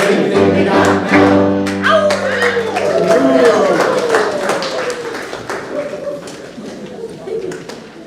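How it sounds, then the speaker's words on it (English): Hands clapping among a church congregation at a Sunday service blessing animals, scattered claps over sustained music and singing, fairly loud and steady before fading toward the end. "Some just clap their hands applause or anything they got now."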